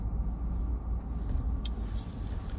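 A car reversing slowly down a steep mountain driveway from a hilltop cabin, a steady low engine rumble with tire and road noise, fairly close and continuous, with no talk.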